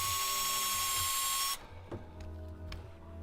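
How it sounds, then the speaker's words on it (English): A small power drill with a larger bit spins loudly and steadily on a laptop during a motherboard repair, then stops abruptly. A few faint clicks and handling knocks follow in the quieter room. "I have a bigger drill bit too."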